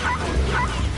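Dog-like creatures in the Dreams PS4 first-person shooter give two quick, close yipping barks with whimpering tones, loud and alone.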